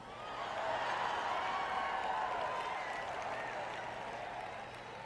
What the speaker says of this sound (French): On m'applaudit beaucoup ce soir